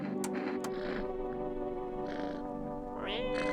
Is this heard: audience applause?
no